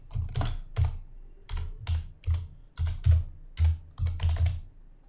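Keys clack on a computer keyboard as a cluster name is typed into a VMware vSphere dialog, a close, uneven run of about a dozen quick keystrokes in small bursts, with no talking.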